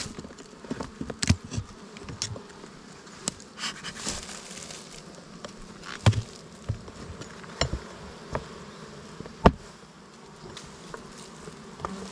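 Honeybees buzz steadily around springtime hives during honey production, a close continuous hum broken by a few sharp knocks and clicks, with no talking.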